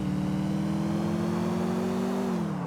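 Car engine in GTA IV driven against oncoming traffic, a steady mid-pitched drone that holds level then dips slightly near the end, loud and continuous with no talk.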